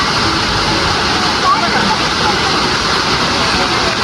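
A waterfall near Lohgad Fort in Lonavala roars in a steady, dense rush close by, filling the whole stretch without a break.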